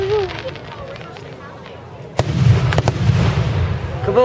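Fireworks burst loudly outdoors at an illegal neighborhood display in Richmond, several sharp bangs landing in quick succession after a quieter stretch, with a voice calling out faintly over the crackle.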